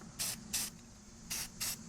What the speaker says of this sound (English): I just spray on and off so I can kind of direct where it's going.